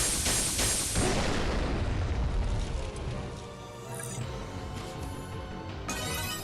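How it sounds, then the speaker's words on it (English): A Brave Cannon attack in the video game Megadimension Neptunia VIIR, heard as a loud, sustained booming explosion with dense rumble and crackling debris, swelling and continuing across the whole stretch, with a sharp burst near the end. "Brave cannon!"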